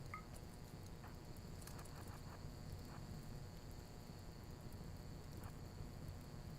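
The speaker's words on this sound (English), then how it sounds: "Is it raining now?" Steady rain patters without a break in Rimworld, a dense, even hiss under faint chirping and a few light taps, with no voices.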